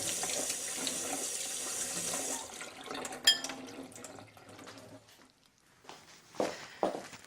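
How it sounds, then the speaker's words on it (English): Cold tap water runs steadily over rice held in a sieve at a kitchen sink, a continuous hiss for a couple of seconds before tapering off, followed by quieter clatters and a few soft knocks. "just drain your rice through a sieve and then hold under a cold running tap just to get rid of any excess starch"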